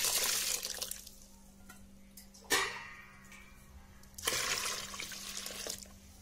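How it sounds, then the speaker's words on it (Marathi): Water pours in bursts from a tap or jug into a rice flour batter for Khandeshi bibde, with a splashy rush at the start and two louder gushes partway through, close by and without talk. "यामध्ये ना भरपूर पाणी घालायचं"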